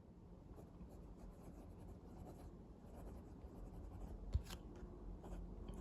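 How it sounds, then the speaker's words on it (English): Hongdian C1 fountain pen with a steel fine nib scratching softly across paper, a faint, continuous close scritching of writing strokes with one sharper tap partway through. "Let's do a writing sample now with this pen."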